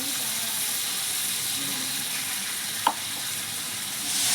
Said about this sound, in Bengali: চিকেনটা খানিক্ষণ ভাজা ভাজা হয়ে গেছে এবার আমি এই যে পেস্ট করে রেখেছি এইটা দিয়ে দেবো